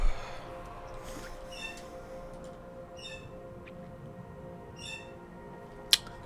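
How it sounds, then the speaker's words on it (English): A pet bird squawks and chirps in short intermittent calls over a steady background hum, moderately close, with one sharp louder call near the end. "My bird is going ballistic again."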